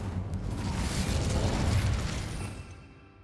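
An Incendio fire spell erupts in Hogwarts Legacy, a loud, dense whooshing burst of flame that swells for about two seconds and then fades away, with no talk over it.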